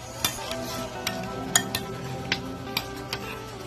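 A utensil stirring crushed Oreo cookies into homemade ice cream mixture in a bowl, with repeated light clinks and taps against the container at an uneven rhythm over a quiet hum.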